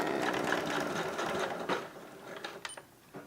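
Sewing machine stitching a fabric hanging planter, running a short backstitch: a steady motor whir with rapid needle chatter for most of the clip, then slowing into a few brief bursts near the end, close and alone.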